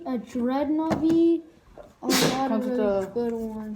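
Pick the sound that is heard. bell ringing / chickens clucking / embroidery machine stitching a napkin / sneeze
sneeze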